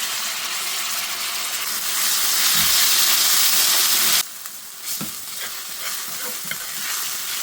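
Ginger garlic paste frying in ghee in a pan gives a loud, steady broadband sizzle that drops abruptly partway through to a quieter crackle with a few stirring scrapes.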